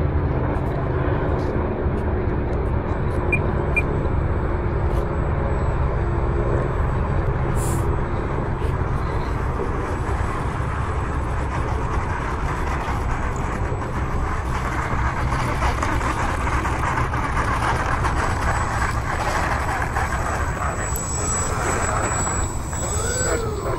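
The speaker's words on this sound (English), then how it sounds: "So that was my flight on the E-Flite EC-1500." An E-Flite EC-1500 RC airplane in flight, its electric motor giving a steady whining drone with gentle rises and falls as it passes, heard continuously over outdoor wind noise.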